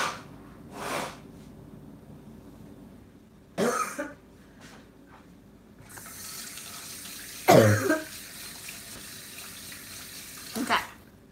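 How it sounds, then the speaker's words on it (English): A person blows their nose in a few short, noisy bursts, with a loud honk in the middle and quieter rustling and sniffing between them. No one speaks. "Hang on, I gotta blow my nose."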